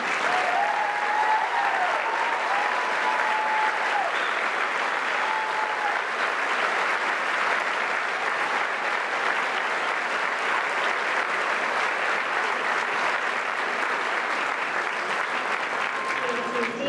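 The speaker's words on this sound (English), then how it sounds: "please stand and receive our applause for excellence in academics" Graduation ceremony crowd at Woodbury High School applauding students for academic excellence, a long, dense wall of clapping sustained at steady loudness with a few faint cheers or voices mixed in.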